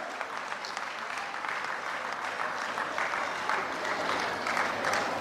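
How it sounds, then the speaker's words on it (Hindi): Dense, sustained clapping from an audience at a Jain religious gathering, holding steady and fairly loud for the full five seconds, with a faint murmur of voices mixed in. "ताली बजाकर ये अनुमोदना करें"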